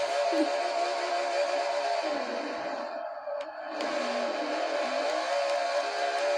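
A NASCAR race car in Forza Motorsport 4 revs in a loud, sustained, buzzing engine drone that dips briefly in the middle and then climbs back up.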